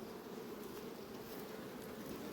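Honeybees buzzing around a hive while frames are pulled by a beekeeper, a steady, dense drone that stays level and fairly close throughout, with no voices.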